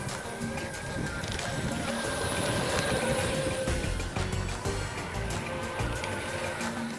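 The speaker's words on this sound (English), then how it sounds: "So take a look at the PCC trolley." An Aristo-Craft PCC trolley runs along brass garden railway track, giving a continuous rumbling rattle with faint clicks, under outdoor wind noise at moderate level.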